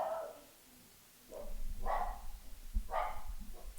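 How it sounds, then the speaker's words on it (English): A dog barking indoors, three separate moderate barks spaced about a second apart after a short quiet gap, with a low rumbling hum underneath and no speech. "If you're hearing my dog Mako, he doesn't like Perry Stone either."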